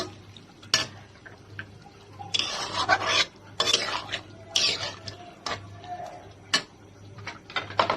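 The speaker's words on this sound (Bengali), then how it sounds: "এখন ভালোভাবে নেড়ে 2 মিনিট নেড়ে এটাকে উঠিয়ে ফেলতে হবে।" Chicken and vegetables with cornflour water are stirred in a pan, with close, repeated metal scraping and clattering of a spoon against the pan in bursts over a soft background hum.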